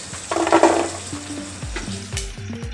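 Butter melting and frying in a pan at the start of a paneer biryani, a steady soft sizzle with a few louder crackling bursts and faint stirring, no voices.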